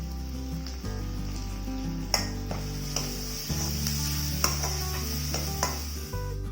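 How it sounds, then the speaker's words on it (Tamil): Onion and garlic sauté in a pan on slow heat, making a soft sizzle under rhythmic scraping and stirring clatter from a utensil against the pan. The sound runs over a steady low hum and has no voices. "நல்லா வதங்கட்டும். நிறைய வெங்காயம் பூண்டு போட்டாலே நல்லாயிருக்கும்."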